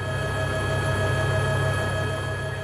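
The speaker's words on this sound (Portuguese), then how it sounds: "O helicóptero Águia da Polícia Militar o espera na pista" A Military Police Águia helicopter waits on the runway at Congonhas airport, its turbine and rotors making a steady, continuous whine and hum at a constant level.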